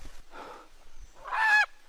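A chicken squawks once in a loud, harsh burst after a softer, muffled call, with short quiet gaps around each sound.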